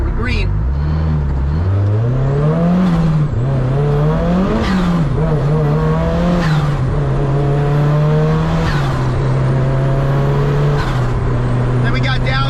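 Mazda Miata engine revving through gear shifts on the road, a loud close exhaust rising in pitch, dropping at each shift, then holding a steady cruise, with a voice talking briefly over it.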